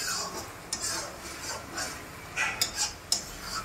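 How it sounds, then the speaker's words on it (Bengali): Chicken masala fry being stirred in a pan, with soft scraping and clinking strokes of a utensil at an uneven rhythm over a faint sizzle, close and moderately quiet. "ততক্ষণ পর্যন্ত চিকেনটাকে ভালো করে নেড়ে যেতে হবে।"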